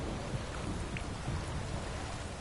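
Steady, dense storm rain from The Witcher 3: Blood and Wine, a continuous wash of downpour with low rumbling underneath, heard alone at a constant level.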